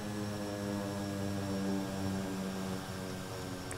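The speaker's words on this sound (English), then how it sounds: "Super tight turning radius on this airplane, and I absolutely love it." Kodiak 100 turboprop taxiing in Microsoft Flight Simulator 2020, a steady droning propeller and engine hum with strong low tonal bands, held close and constant throughout.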